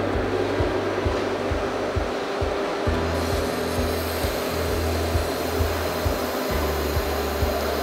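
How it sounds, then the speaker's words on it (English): A laser welding machine welds metal, a loud, steady mechanical hum and whir with a faint repeating pulsing pattern, continuous throughout and with no talk over it. "meanwhile, like after that, he can just start welding"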